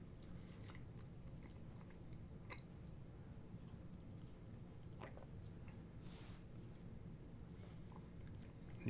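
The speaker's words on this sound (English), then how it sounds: "You can probably hear me chewing on this bread" Someone chewing raisin bread close to the mic, with soft, irregular biting and mastication noises over a steady low background hum and no talking.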